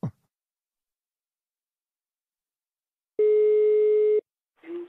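A telephone line tone as a call is placed: a single steady beep of about a second, close and clear, then a short second tone beginning after a pause, with quiet around it.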